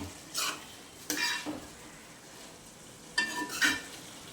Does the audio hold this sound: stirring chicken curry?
yes